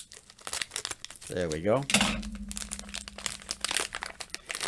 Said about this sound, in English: all you've got to do is cut this open, which I'm doing right here, or trying to do.